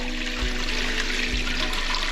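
Hot water pours steadily into a container to cover a shoe for black dyeing, a continuous splashing rush with a couple of low thumps, close and fairly loud with no talking.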